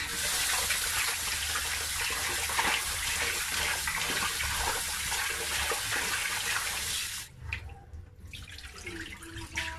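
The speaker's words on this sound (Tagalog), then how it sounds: "Hugasan ko po muna ng mabuti para hindi po malangsa." Raw chicken for adobo rinsed under a running tap, a steady loud rush of water splashing for most of the clip before it cuts off and gives way to quieter handling and drips.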